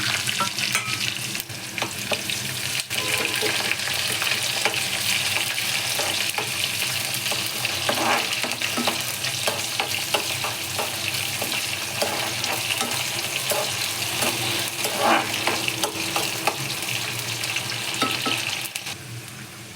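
Curry leaves and onion frying in hot oil, a steady crackling sizzle that carries on throughout, with occasional stirring scrapes and no talking.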